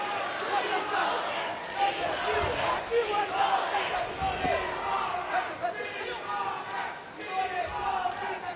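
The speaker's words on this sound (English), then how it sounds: "The crowd are absolutely loving ALESSIO Simone" Crowd at the 2019 World Taekwondo Championships men's -74kg final in Manchester cheering and shouting loudly and continuously, with bursts of roaring under commentary.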